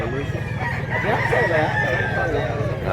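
A rooster crows loudly nearby at a chicken market in Mantalungon, Cebu, one long drawn-out call over a busy background of other fowl clucking.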